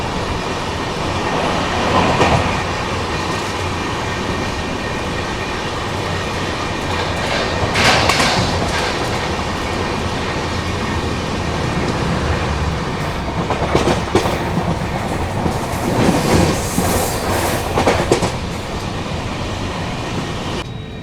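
A Barmer–Yesvantpur AC Express passenger train rumbles steadily along the rails, with a dense, continuous clatter and periodic rhythmic wheel clicks and surges, loud and close, no voices.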